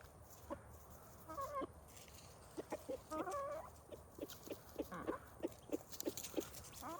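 Chicken clucking outdoors, a series of short, rhythmic clucks and chirps repeating at close range over a low background hum, with guinea fowl kept nearby.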